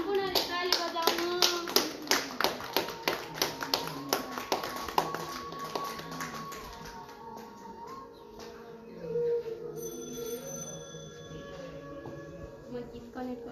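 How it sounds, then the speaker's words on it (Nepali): Rhythmic audience clapping at a gathering, sharp evenly spaced claps in unison for several seconds before fading into a voice speaking over a sustained musical tone. "सम्पूर्णले ताली बजाउनु।"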